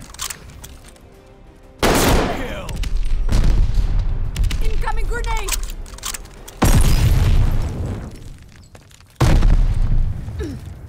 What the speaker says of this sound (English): They tossed a sticky bomb.